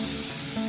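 Grated mango hits hot spice masala in a pan and sets off a loud, steady, close sizzle that lasts the whole brief moment.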